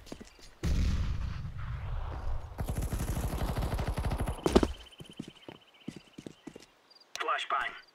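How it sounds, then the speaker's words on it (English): A flashbang grenade goes off in Counter-Strike: Global Offensive amid gunfire and footsteps, followed by a sustained high ringing tone. A voice talks over the action. "Flashbang. Grenade out."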